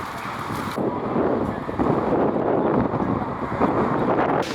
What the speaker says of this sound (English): Well, the winds have just stirred up. It's getting super windy.